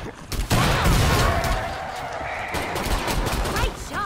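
Rapid automatic gunfire from the video game Killing Floor 2 bursts loud and near in dense volleys, with sharper single shots and game effects layered over, continuing for several seconds.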